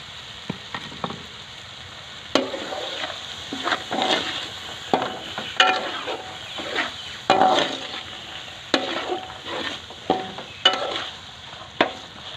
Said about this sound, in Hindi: तकरीबन 6-7 मिनट के लिए मटर को भूनते हुए पकाएंगे।